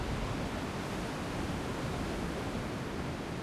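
An air conditioner runs indoors, giving a steady, even broadband hiss and low rumble that holds constant without pauses throughout, with no talking.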